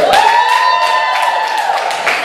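Comedy club audience answers a stand-up comic's call with loud clapping and a rising vocal cheer, a dense close wash of applause and whooping filling the whole short burst.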